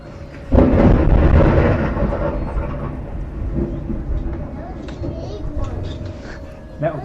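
A loud, close thunderclap crashes during a thunderstorm, a sudden boom that rolls into a long fading rumble over several seconds, with a smaller crack near the end.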